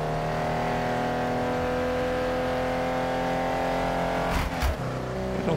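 A race car engine in the Wreckfest video game holds a steady, loud droning whine, then briefly shifts and surges with a sharp burst near the end.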